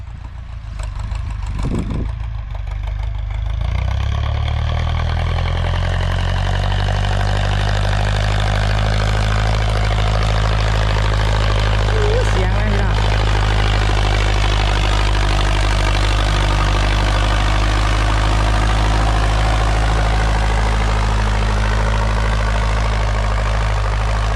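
A New Holland 6640 tractor's engine starts up and settles into a loud, steady running drone with a deep low rumble and layered harmonic throb, close by and continuous for the whole stretch, with no voices.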